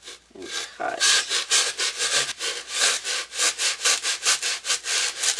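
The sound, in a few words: sawing a Dollar Tree wooden frame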